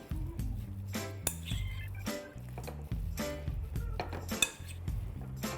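A mutton kebab mixture is mixed in a metal pot, making repeated close clinks and scrapes of a utensil against the pot, with soft squishy stirring between the knocks.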